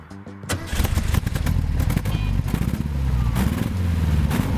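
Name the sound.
VW Brasilia air-cooled boxer engine burbling from the rear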